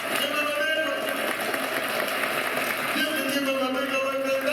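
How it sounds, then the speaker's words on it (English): A church congregation claps hands together in a steady, continuous wash of applause mixed with voices and background tones, sustained at even loudness throughout. "Give God a big hand clap"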